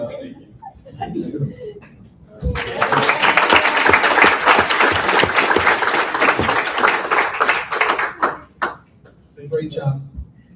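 A round of applause erupts from the audience at a board of education meeting, a dense burst of clapping lasting several seconds with some chuckling, framed by murmured talk before and after.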